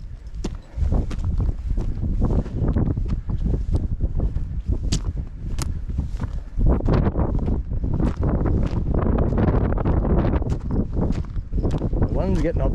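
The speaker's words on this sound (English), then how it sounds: "Getting up here, the wind is getting up." Wind gusts on an exposed hill trail near Strandhill, a steady rushing buffet across the microphone with scattered footsteps and knocks, running loud throughout.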